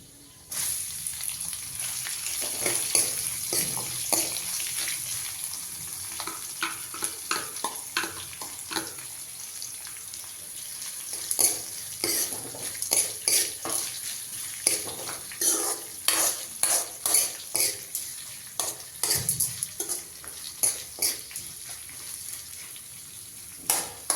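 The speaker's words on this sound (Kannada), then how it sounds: "ಈಗ ಸ್ವಲ್ಪ ಈರುಳ್ಳಿ ಹಾಕ್ಕೊತಾ ಇದ್ದೀನಿ" Sliced onions fry and hiss in a pan as they are stirred repeatedly, with a continuous sizzle and rhythmic scraping of a spoon recurring across the stretch, close and fairly loud.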